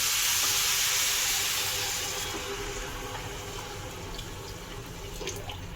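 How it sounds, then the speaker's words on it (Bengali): Hot water is poured into a pan of browning basmati pulao, a loud hissing, steaming rush that fades into a softer bubbling simmer. "এবারে গরম জলটা ঢেলে দেবো"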